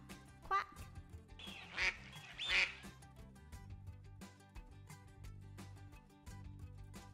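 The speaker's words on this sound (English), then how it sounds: "A duck goes, quack, quack." A duck in an animated children's show quacks several times, loud and close, with a voice and bouncy background music around the calls.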